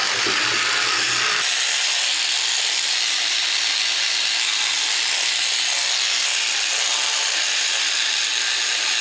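Sonic scrubber brushing a removed washing machine filter, a steady, close, broadband buzzing scrub that runs continuously for about nine seconds with no talking.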